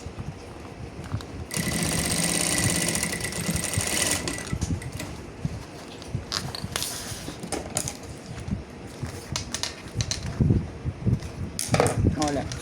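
Domestic sewing machine stitching a traditional fabric toiletry bag, a fast whirring run of close stitches for a few seconds followed by shorter stop-start bursts, handling clicks and fabric rustle, with a person talking at times.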